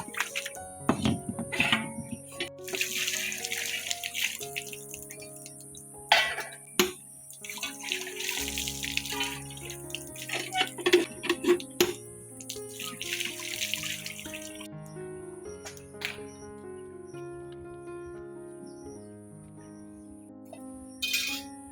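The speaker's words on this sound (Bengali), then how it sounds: "খাওয়া দাওয়া হয়ে গেল বন্ধুরা, থালা বাসন ধুইতে যাচ্ছি" Dishes are washed under running tap water after a meal, with splashing water, clinking plates and metal utensils knocking in irregular bursts close by, easing to quieter trickles toward the end.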